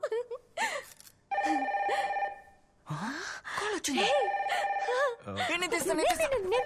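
A telephone rings repeatedly in an FM radio station studio, its electronic trill coming in bursts close by. Gasps and voices from a comedy scene break in between the rings.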